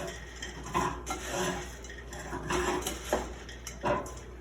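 Dry beef bread stuffing being tossed and mixed in a pot, with steady scraping and rustling and a few louder utensil knocks against the pot side, close by and without any talking.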